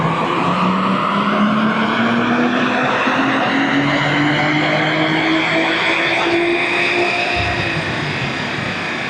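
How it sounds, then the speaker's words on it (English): A Stage 2 tuned BMW M340i engine roars at wide open throttle in fifth gear, its loud, rising note climbing steadily through the pull with a rough exhaust edge, heard alone at close range. "So let's do a wide open throttle pull."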